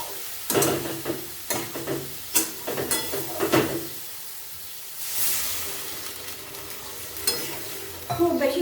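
Water poured into fried masala for a Bengali shol fish kalia, with bursts of scraping and sizzling, then a loud rushing hiss as the liquid hits the hot oil, followed by softer clatter.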